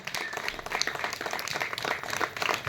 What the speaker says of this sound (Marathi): टाळ्या जोरात असल्या पाहिजे.